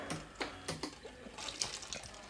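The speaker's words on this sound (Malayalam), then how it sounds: "അത് കുറച്ച് പമ്പ് ചെയ്ത് പോയാൽ മാത്രമേ ഉള്ളൂ നമുക്ക് സാനിറ്റൈസർ കിട്ടത്തുള്ളൂ." A homemade automatic sanitizer dispenser pumps out water left in its line, giving several faint, short liquid spurts and splashes at close range with no talking.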